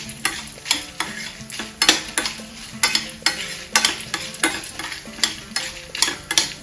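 Urad dal frying in a pan while being stirred with a spoon, for a bitter gourd fry: steady sizzling under repeated rhythmic scraping strokes, close and clear, with no talk.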